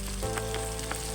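Chili sauce hitting a pan of frying idli chili with black pepper and dried chili powder, a dense, close crackling sizzle with a few sharper spits and pops over a short burst.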